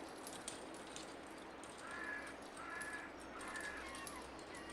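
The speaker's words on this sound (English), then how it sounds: "Got the birds and the seagulls," Crows and seagulls call in a Farming Simulator 22 game world, three short, faint cries spaced about a second apart over a soft steady ambient bed.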